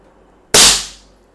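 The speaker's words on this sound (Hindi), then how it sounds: "एक बार फिर से एक और पैलेट डाल के फायरिंग करने की कोशिश करता हूँ" An Indian-made Heman air pistol fires one pellet, giving a single sharp, loud pop that rings out and decays within about half a second, with silence before it.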